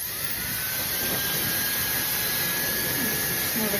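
A fast-spinning negative ionic hair dryer rated at 150,000 RPM blows at full power, giving a loud, steady, airy rush with a thin high motor whine running throughout.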